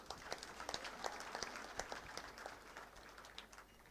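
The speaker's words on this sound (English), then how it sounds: "Can we get another round of applause?" Graduation ceremony audience applauds in a hall, a soft, distant spread of many hands clapping steadily with no talking.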